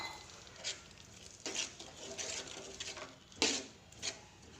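Cooked dal (lentils) is added to a fenugreek leaf mixture, giving soft wet plops and scraping stirs in a pot, with a faint sizzle and a few louder splats, quiet and close.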